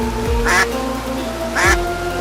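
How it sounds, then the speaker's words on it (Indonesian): Two nasal duck quacks from a cartoon duck, spaced about a second apart, loud and close over a steady background of tones and music in an Indonesian animated story. "Itu namanya bebek, Nak."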